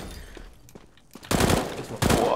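Gunfire in Counter-Strike: Global Offensive during a competitive match: a quieter stretch gives way to two loud, close bursts of rapid shots, the second starting a moment after the first.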